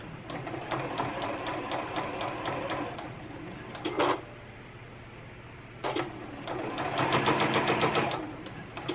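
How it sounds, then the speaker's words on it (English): A sewing machine stitches through thick bra fabric and channeling with a fast mechanical whir. It runs for about three seconds, gives two brief bursts, then runs again, close and steady. "This machine really can go through thickness of fabric."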